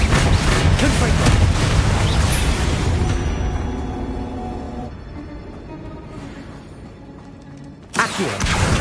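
Confringo fire-blast spell erupting in Hogwarts Legacy: a heavy, roaring explosion with a long crackling, rumbling tail that slowly fades, then a second sharp burst near the end.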